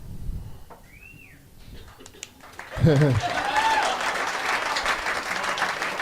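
A podcast audience bursts into applause partway through, the clapping continuing steadily after earlier talk and a short whistle-like vocal sound.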